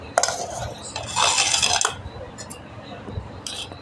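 A small spoon clinks and scrapes against a plate during a home meal, a few light metallic taps and a longer rattling scrape, close and fairly quiet.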